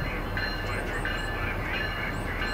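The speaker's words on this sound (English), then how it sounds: "I think this is going to be a long train." A long Union Pacific train rolls slowly and steadily past close by over a rail crossing diamond in Rochelle, Illinois, a continuous rumbling roar with faint high metallic squeals from the wheels, no talking.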